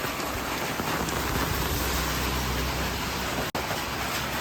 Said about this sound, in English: 15 minutes of walking in the rain with the hotels umbrella.